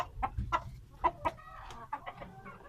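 A Hint breed rooster clucks in short, separate bursts, several sharp calls spaced irregularly, close and clear against a quiet farmyard background.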